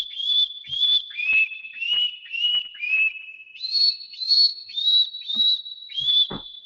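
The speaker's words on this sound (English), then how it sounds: "just that whistle again" Recorded whistling plays back through a Skoogmusic sampler as a clear series of short, pure whistled notes, about a dozen evenly spaced tones stepping between a few pitches, heard alone with faint clicks between them.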